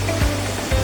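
Waterfall pouring into a natural river bathing pool: a dense, steady rush of falling water, loud and close, with a low rumble underneath and no voices.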